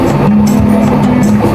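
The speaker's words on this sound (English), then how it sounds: "and this is the grinder." A coffee grinder in a barista's workplace grinds beans close by, a loud, dense whirring drone with a steady motor tone held for a brief moment.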